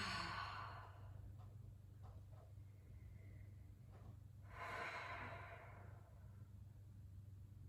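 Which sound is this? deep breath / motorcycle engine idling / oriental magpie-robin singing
deep breath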